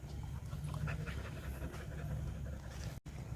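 A pet dog panting close by during a vet vaccination visit, quick rhythmic breaths repeating for a few seconds against a low background hum.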